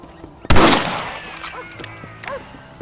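A single sharp rifle shot cracks loudly in the Red Dead Redemption video game, followed by a trailing echo and faint scattered sounds.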